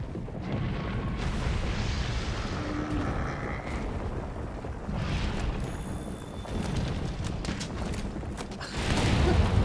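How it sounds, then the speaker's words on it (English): Explosions in the Monster Hunter World video game, heard as rumbling booms and bursts over a dense, continuous mix of in-game effects and low mechanical noise. "It's always funny to see them go flying back when the explosion goes off."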